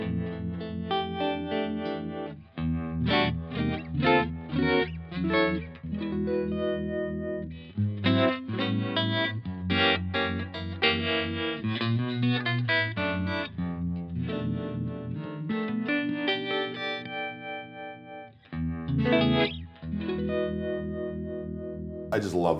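Electric guitar played through a new signature amp with deep, swirling univibe/Leslie-style modulation, sustained chords and notes ringing loud and steady for the whole stretch with no talking.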